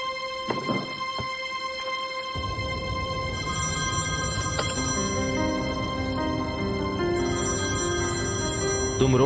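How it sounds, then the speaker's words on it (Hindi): A telephone rings in a repeated electronic pattern, at first clear and then partly masked by a rising swell of dramatic music and background noise over several seconds. "फोन उठाओ, फोन उठाओ, जल्दी करो।"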